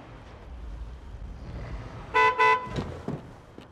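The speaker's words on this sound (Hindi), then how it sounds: "मैंने इनको 100 मरतबा कहा है कि यहाँ इतना हॉर्न मत बजाए" A car horn gives two short, loud honks in quick succession on a street, standing out above a low rumble of background traffic.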